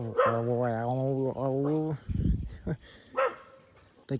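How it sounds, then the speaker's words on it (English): A female dog growls in an odd, wavering, almost talking tone, a long pitched warble lasting about two seconds, followed by a few shorter rough grunts and snorts close to the listener. "This dog growls in the most hilarious way ever."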